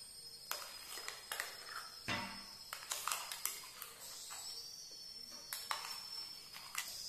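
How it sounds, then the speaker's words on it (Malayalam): Freshly ground spice paste for traditional Kerala payaru kanji being scooped from a mixer jar into a small bowl, with a series of light metallic clinks and scrapes of spoon against steel, close and fairly quiet. "നമുക്കത് ചെറിയ ബോളിലിട്ട് മാറ്റി വെക്കാം"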